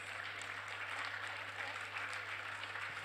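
Continuous, distant applause from an audience at the Landfills2Landmarks 2025 event, a dense even wash of many hands clapping that stays quiet and steady throughout, with a low hum underneath.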